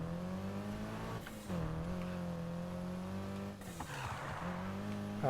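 A car drives in the video game Need For Speed Heat, its engine droning steadily and shifting pitch with two brief surges and a hint of tire noise, up close and alone.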